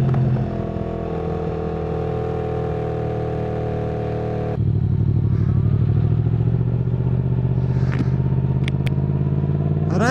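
Yamaha MT-10 SP motorcycle engine drones steadily, then rises to a louder, harder pull as it accelerates, with a rough mechanical rasp and wind noise, close and continuous.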